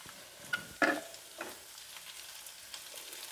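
Curry leaves drop into a hot pan of sauteing food and burst into a sharp crackling sizzle. It settles into a steady, soft frying hiss with a few faint pops.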